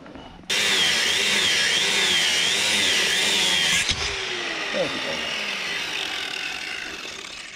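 An angle grinder cuts through a trailer leaf-spring U-bolt, a loud, steady high-pitched whine with wavering pitch that stops abruptly, then a quieter whirring winds down with faint clatter.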